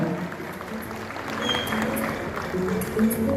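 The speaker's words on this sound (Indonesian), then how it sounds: "Kita berikan tepuk tangan yang meriah." An audience at a national working meeting in a hotel ballroom in Bali applauds, a steady wash of clapping from many hands that swells slightly toward the end.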